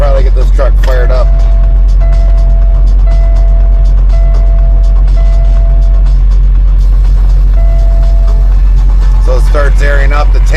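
Semi truck engine idling loudly right up close, a heavy steady drone with repeated beeping tones as the air tanks build pressure, and a person talking briefly at the start and end.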